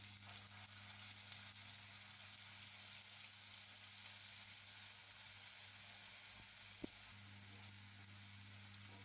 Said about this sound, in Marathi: मस्त असं याला ब्राऊन कलर येईपर्यंत आपण परतून घेऊया.